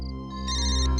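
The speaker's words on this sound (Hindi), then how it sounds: "फोन बज रहा है तेरा।" Mobile phone ringtone in a TV crime-drama scene, a brief electronic chime heard for about a second over a low background music bed.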